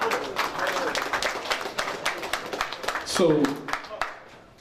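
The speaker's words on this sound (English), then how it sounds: "clap it up for that one right there." An audience at a producers' showcase breaks into a burst of clapping and cheering that rises to a peak and then fades away, with a voice speaking briefly over the applause.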